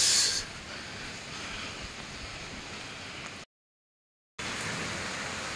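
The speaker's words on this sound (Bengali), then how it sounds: "ভালো রকম বৃষ্টি চলছে।" Heavy rain pours steadily in the early morning during a low-pressure spell after a cyclone, a broad, even hiss that is briefly cut by a second of silence before resuming.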